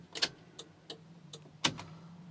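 Turn signal of a Chinese-made car clicking inside the cabin, a few sharp, moderately loud ticks at irregular spacing over a faint steady hum, with no talking.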